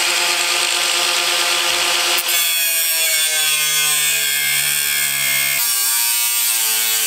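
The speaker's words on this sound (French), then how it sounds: "je passe la machine à décoller, là, ici, pour que la cornière soit bien décollée des panneaux" A power cutting tool runs steadily to free an angle bracket from camper body panels, giving a continuous loud motor whine with a shift in tone partway through and a brief dip near the start.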